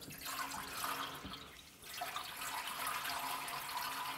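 Coolant liquid pours steadily through a small mesh filter into the back of a Pela G4023 metal band saw, a soft continuous trickle with a brief dip midway before the flow resumes.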